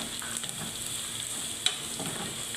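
Whole spices such as black cardamom, cinnamon, cloves and green cardamom drop into hot oil with meat for aloo gosht, giving a steady, close sizzle and fry with faint stirring and a brief clink partway through.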